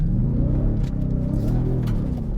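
Ford F-150 Raptor R pickup exhaust in Baja off-road mode, a steady deep rumbling drone with rising revs, loud and close, no talking.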